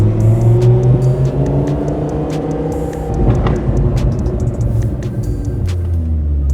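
A Lamborghini engine braking in gear on an icy, snowy road gives a loud, steady low rumble with shifting engine tones and no voices.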